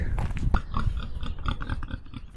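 A pig grunts and snorts in short, rough bursts close by in rural Calabria, Italy, several low grunts in quick succession.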